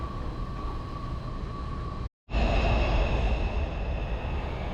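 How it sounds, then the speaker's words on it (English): A Washington DC Metro train arriving at a concrete-enclosed station rumbles steadily with broadband rail noise and a faint high whine, cut by a brief dropout before the rumble returns louder. "That's our train, the Washington DC Metro,"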